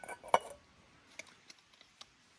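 An Ozark Trail metal cup is handled over a backpacking stove, giving one sharp metallic clink followed by a few fainter scattered taps and ticks in an otherwise quiet space.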